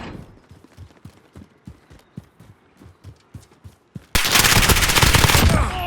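Video game battle gunfire: rapid bursts of shots and impacts, then a loud sustained roar of heavy fire near the end, with no talking.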